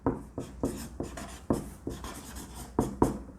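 A red pen writes on paper in quick, rhythmic strokes, roughly a dozen scratchy taps and swipes in a steady cadence, close and fairly quiet with no talking.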